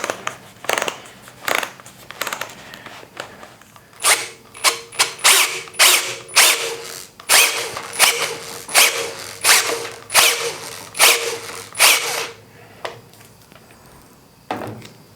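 Impact driver driving screws into the inserts of a helical cutterhead on a 6-inch jointer, a run of rapid, loud ratcheting bursts with short pauses between them, close by and with no talk.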